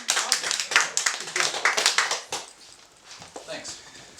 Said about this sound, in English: Right, so give him a round of applause.